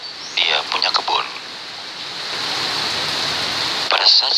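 Steady rain falls as a broad, even hiss that fills the background, with a voice speaking over the opening moments.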